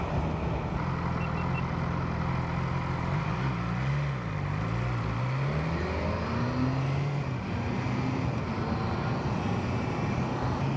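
A BMW S1000R motorcycle engine drones steadily while riding, its pitch rising and dipping as the quick shifter snaps through gear changes, with constant wind roar around it.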